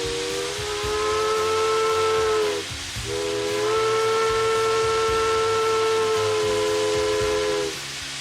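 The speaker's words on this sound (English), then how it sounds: "Got a good head of steam on her now." A steam locomotive that once hauled a presidential campaign train sounds its loud steam whistle in two long sustained blasts, a steady multi-tone chord with a short break between, over a hissing rumble.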